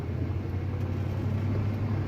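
A 1970 Buick Skylark cruises along the road, its engine a smooth, steady low drone with road rumble, heard from inside the car without talk.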